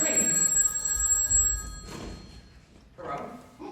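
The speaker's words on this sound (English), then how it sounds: "I don't want this number ruined by a ringing telephone" An old-style telephone bell rings on a theater stage during a musical number, with a bright, metallic trill at the start and then quieter stage thumps and voices.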